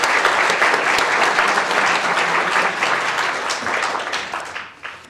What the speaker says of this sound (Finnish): Annetaan suuret aplodit Merja Kyllöselle.